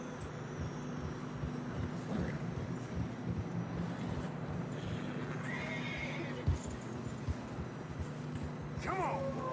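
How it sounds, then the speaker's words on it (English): Video game horses in Red Dead Redemption 2 whinny and hooves clop steadily through fresh snow over a constant low rumble of background noise, with a sharper neigh rising near the end. "Horses are getting tired."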